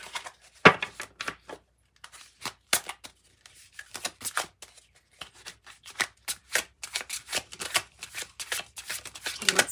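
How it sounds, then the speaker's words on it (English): A deck of tarot cards is shuffled by hand nearby, giving a quick irregular run of papery flicks and taps with brief pauses between bursts. "I think I'm just going to shuffle them and take a jumper."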